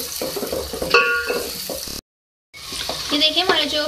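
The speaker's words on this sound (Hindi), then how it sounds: "इसको फ्राई कर लें।" Whole spices (bay leaves, black cardamom, cinnamon, star anise) with onions frying in hot oil, a steady close sizzle with a few stirring clinks, broken by a brief silent gap.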